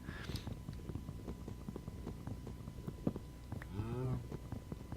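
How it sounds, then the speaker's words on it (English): Cattle in a modded game low in a long, drawn-out moo near the end, over a busy layer of soft thuds and ambient game noise. "turn that down so I'm not deafened by the cows"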